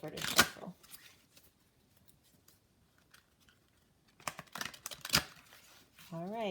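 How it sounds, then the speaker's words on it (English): A stiff deck of tarot cards is riffled and shuffled in short bursts of crisp rustling, with pauses between them and a voice talking near the end. "This deck, they're a little stiffer to shuffle."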